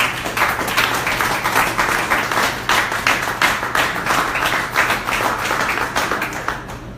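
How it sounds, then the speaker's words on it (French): An audience at a photography festival in Haiti claps and applauds steadily for about seven seconds, a dense, even wash of many hands with no one speaking over it. "On applaudit,"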